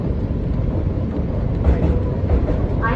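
A Hong Kong MTR revival K-stock train runs between Kowloon Bay and Choi Hung, giving a steady loud rumble and wind-like roar from onboard with a faint squeal near the end.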